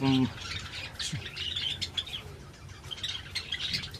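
Java sparrows kept for breeding chirp and tweet in short, bright calls close by, scattered through a faint indoor background.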